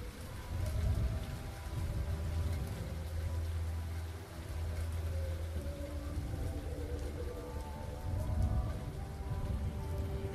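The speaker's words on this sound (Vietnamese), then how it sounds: "Sau đó tất cả bầu trời tối đen lại, nhưng hạt mưa cũng bắt đầu tí tách rơi." Steady rain patters across surfaces, a dense continuous hiss of drops with a faint low rumble underneath.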